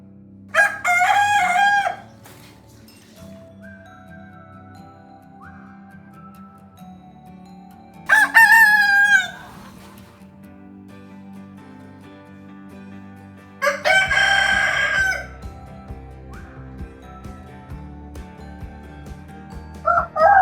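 A rooster crows three times at spaced intervals, each call loud, close and drawn out, with a low steady hum between crows and no talking.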